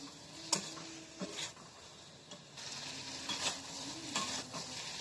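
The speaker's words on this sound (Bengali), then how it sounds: "এরপর এটাকে হালকা লো ফ্লেমেতে প্রায় 4 থেকে 5 মিনিট ধরে এটাকে কষাতে হবে।" Spiced fried cauliflower being stirred in a pan over a low flame, a utensil scraping and clinking in a few irregular strokes over a steady soft sizzle.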